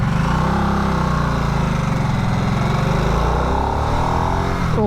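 A 2022 Harley-Davidson Nightster 975 V-twin engine in sport mode runs loud and close, a steady, throbbing rumble that swells slightly in revs toward the end.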